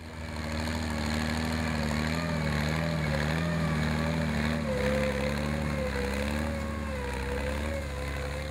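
A steady, low-pitched engine of a 1964 Massey Ferguson 35 tractor with a Continental engine idles and chugs continuously at close range, with no voices over it.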